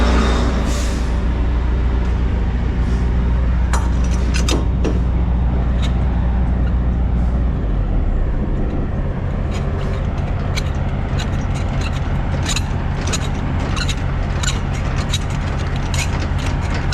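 A semi truck's air brakes and trailer mechanisms work during disconnecting: loud idling engine rumble throughout, with sharp hisses and metallic clicks and clanks scattered across the second half.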